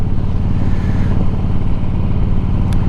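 Loud motorcycle engine thrumming steadily while riding, a deep continuous low rumble with mechanical clatter and wind, close to the listener and with no voices.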